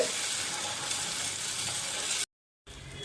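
Fenugreek dosa batter spread thin on a hot stone griddle with sesame oil gives a steady, close sizzling hiss that breaks off into a short silence, then the frying resumes.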